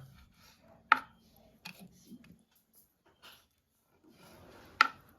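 Freshwater mussel meat, taken from river-gathered shells, being cut into pieces on a board: two sharp chopping knocks about four seconds apart, with a few softer taps between them, close and alone in a quiet room.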